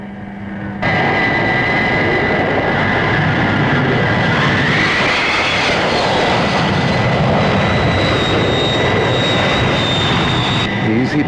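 A Thunderbird aircraft roars in on final approach with flaps down, its loud, steady jet-engine whine and rumble starting abruptly and holding at full strength throughout the landing.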